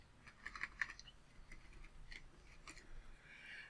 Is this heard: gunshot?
no